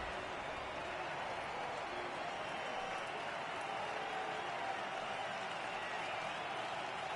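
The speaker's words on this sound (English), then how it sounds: "Now what's left of this crowd this afternoon gets to their feet." A ballpark crowd in MLB The Show 18 gives a steady, distant wash of cheering and applause, faint and unbroken throughout.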